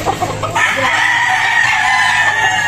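A Sweater Boston Gray gamecock rooster crows loudly and close, a long drawn-out call following a few short clucks, with no talking.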